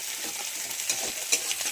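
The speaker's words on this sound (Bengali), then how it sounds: "আদা বাটা দিয়ে এই নাড়াচাড়া করে নিলাম" Ginger paste is stirred in a hot frying pan, soft scraping and steady sizzling close by, with no voices.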